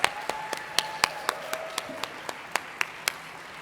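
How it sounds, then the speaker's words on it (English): A small audience at an awards luncheon applauds with sparse, distinct hand claps, roughly three or four per second, heard at moderate distance in a room with no talking. "Can we have a round of applause for all of our amazing chapter and affiliate winners?"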